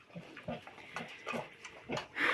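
A piglet grunts in a series of short, snuffling bursts at roughly half-second intervals, close and fairly loud, with a slightly higher squeal at the end.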